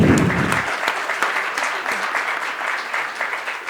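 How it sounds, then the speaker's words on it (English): An audience applauds presenters, a dense round of clapping that starts strong and then settles into steady, slightly thinner clapping that continues to the end. "I would like to hear a good round of applause for these gentlemen."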